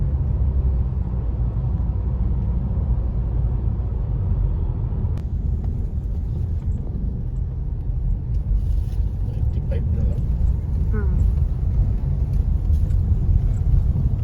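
Car moving through stop-and-go traffic on a Manila road toward Baklaran, a steady low engine and road rumble throughout with faint distant horns and background speech under it.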